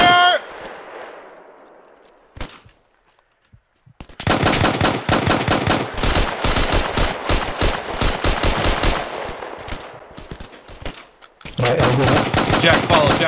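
Loud, sustained bursts of suppressing machine gun fire in the WWII shooter Hell Let Loose, rapid rattling shots in long volleys broken by short pauses, close and dominant.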